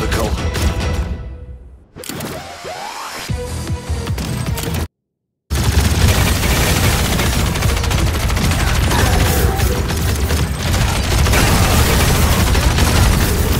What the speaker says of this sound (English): Praetors, soldiers, cannons, lasers, shooting at us!